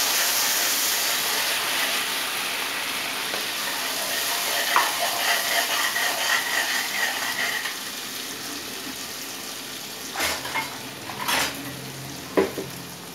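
Masala paste fries and sizzles in a hot pan with popped mustard seeds while being stirred, a steady close hissing crackle with occasional scraping knocks of the spoon against the pan.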